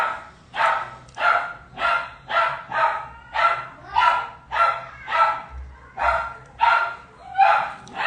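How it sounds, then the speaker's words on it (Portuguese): A dog barks over and over in a steady, evenly spaced run of loud, close barks, with a low background hum underneath. "O cachorro late, aqui todo mundo latindo."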